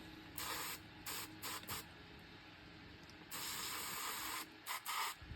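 Several quick bursts of a spray bottle misting water onto dry sphagnum moss in a takeout container, close and soft, with short and longer sprays separated by pauses.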